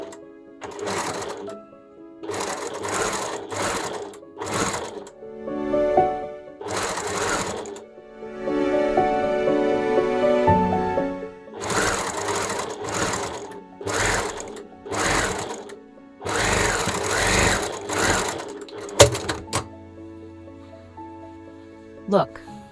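A sewing machine stitches fabric scraps in repeated bursts of rapid whirring, loud and close, broken by pauses in which a person speaks.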